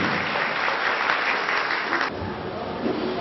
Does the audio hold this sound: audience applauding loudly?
yes